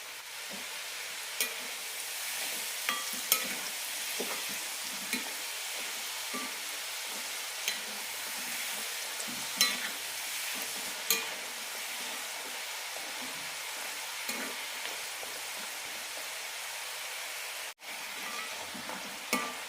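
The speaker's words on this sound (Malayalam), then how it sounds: "വറുത്തെടുക്കാം മീഡിയം ഫ്ലെയിമിലിട്ടിട്ട് വേണം വറുത്തെടുക്കാൻ" Wheat flour snacks deep-frying in oil over a medium flame give a steady, close sizzle and crackle throughout, with occasional sharper pops and stirring knocks, no talking.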